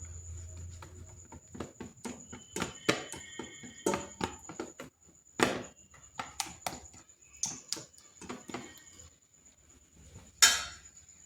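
A spoon knocks and scrapes against a bowl while potato chop batter with a little hot oil is mixed, giving a series of sharp irregular clinks, quiet and close, with no talk.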